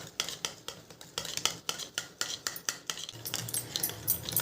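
A spoon rhythmically scrapes and taps against a bowl while aloe vera gel and glycerin are whipped into a cream, making quick, evenly spaced strokes that carry on throughout.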